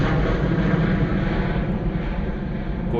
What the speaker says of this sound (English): Gorgeous departure there from the Ryanair 737.